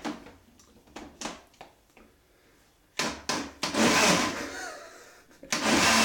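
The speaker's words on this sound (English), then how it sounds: "we'll mix the peanut butter right now with the blender" A kitchen blender mixes a peanut butter milkshake in short bursts: several brief whirring pulses, then longer, louder grinding runs separated by short pauses.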